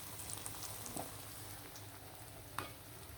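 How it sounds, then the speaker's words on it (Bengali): Eggplant slices coated in gram flour batter fry in hot oil as beguni, giving a faint, steady crackling sizzle with scattered small pops and spatters. "বেসনে এভাবে বেগুন বড়ে বড়ে ওকে তেলে দিয়ে দিবেন"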